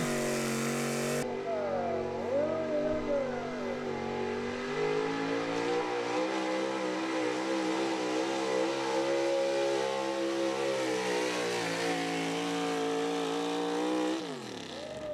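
1985 Chevy pulling truck making its run at a truck and tractor pull: a loud engine roars continuously for about fifteen seconds, its pitch wavering and climbing under load, then dropping sharply as the run ends.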